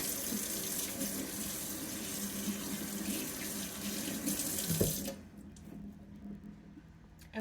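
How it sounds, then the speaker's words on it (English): Tap water runs steadily into a kitchen sink while hands are washed, a close, even hiss that stops abruptly about two-thirds through, leaving quiet room tone. "Wash my hands real quick."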